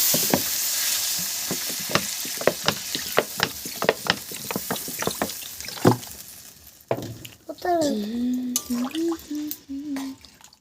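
Sautéed spice masala being stirred with a series of rhythmic scraping strokes, then water poured in and a loud hiss and bubbling take over, with a voice speaking briefly near the end.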